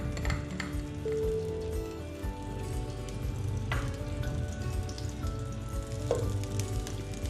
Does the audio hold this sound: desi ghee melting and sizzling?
yes